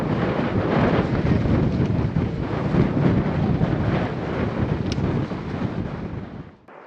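Strong, gusty wind buffets the microphone high on a mountain trek near Mount Belukha, a loud continuous roar with surging gusts that dies away abruptly at the end.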